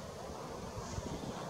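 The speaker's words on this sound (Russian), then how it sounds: "ветер что-то, чем дальше, тем больше" Steady wind buffeting a microphone outdoors at night in Kharkiv, Ukraine, a low continuous rumble with slight gusts and no voices.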